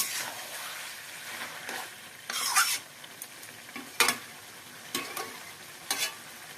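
Catla fish head curry with bottle gourd and potato, stirred in a pot over a high gas flame, with soft sizzling throughout and several distinct scraping stir strokes, nearby and moderately loud, with no talking.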